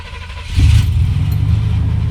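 A 1992 Buick Roadmaster sedan with a Flowmaster muffler and no tailpipe starts up, a loud close crank catching into a deep, rumbling idle.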